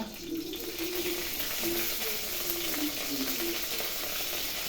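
Green chilies and a sprig of curry leaves frying in hot oil, a loud, steady, close sizzle that continues throughout with no talk.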